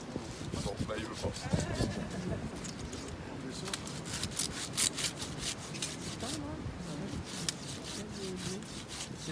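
Steady back-and-forth rasping of a hand saw cutting through wood during hedge laying, close by, with voices talking over it.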